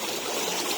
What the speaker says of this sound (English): Just the noise of the water around the back of the prop.